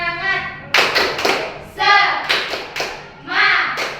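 A classroom of children performs a rhythmic spirit clap, sharp bursts of hand claps in a set pattern alternating with short chanted calls, loud and close.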